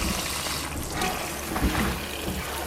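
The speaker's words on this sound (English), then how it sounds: "I gotta clean up all the water I just spilled" Water splashing and spilling in a kitchen while steaming food in a pot: a steady broad wash of liquid noise with a few louder splashes, close and continuous, no voices.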